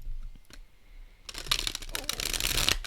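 Quiet handling at first, then a dense burst of crisp, flapping card-shuffling clatter as a stiff tarot deck is riffled rapidly up close.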